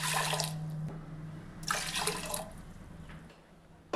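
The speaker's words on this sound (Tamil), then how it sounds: "இப்போ 1 கப்பு உளுந்துக்கு 3 கப்பு தண்ணி சேர்த்துக்கலாம்." Water splashes and gurgles into a pressure cooker holding black gram, in two pours, close and fairly loud, with a brief pause between them.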